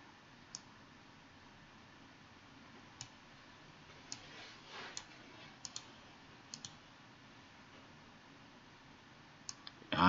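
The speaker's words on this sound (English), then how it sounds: "let me click here" Computer mouse clicks sound as sparse, sharp single and double taps spread over several seconds against a faint steady hiss, while building estimating software is in use; no one speaks.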